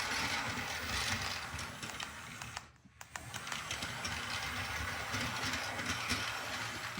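A glow-in-the-dark toy model train runs in reverse with a close, continuous mechanical whir and fast rattling clicks. The sound dips briefly midway, then resumes steadily.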